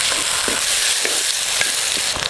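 Chopped tomatoes hitting hot oil with frying onions and curry leaves, a dense close sizzle with a few soft stirring scrapes and no voices.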